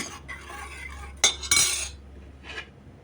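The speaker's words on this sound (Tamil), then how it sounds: "போட்டு நல்லா கலக்கி விட்டுக்கோங்க." Drumstick rasam stirred in a metal pot, with a spoon clinking and scraping against the sides in a few short, close, bright strokes, then quiet.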